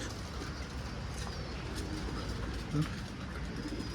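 Pigeons coo softly inside a large lit coop amid a steady background hiss, with one brief clearer coo standing out near the end.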